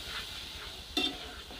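Spices with onion, ginger-garlic paste and a splash of water cooking in a pan, a faint steady sizzle with a single brief scrape of a spoon midway, close and quiet.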